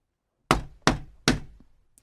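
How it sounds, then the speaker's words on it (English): Three firm knocks on a shop door, spaced roughly evenly, each a dull close thud with a short decay, set in near silence with no talk. "Finally, he knocked on the shop door."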